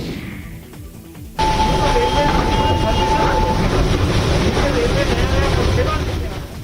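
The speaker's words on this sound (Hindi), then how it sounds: "पटरी पर अपनी आवाज के साथ सीटी बजाती, ट्रैक पर सरपट भागती रेलगाड़ी" A passing train runs along the tracks, a loud, steady rumble that starts abruptly and holds near and constant, with a long sustained whistle tone through the first half.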